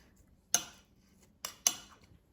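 Cutlery scrapes and taps against a plate while a knife slices through an air-fried, cheese-stuffed mushroom appetizer, giving three short, close, crisp clinks spaced over a couple of seconds with quiet between them.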